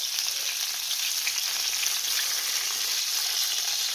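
Potato cutlets fry in a pan with a steady, close hiss and crackle of hot oil, continuous and even throughout with no talking.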